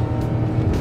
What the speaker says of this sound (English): listen to the sound of that Jaguar-sourced engine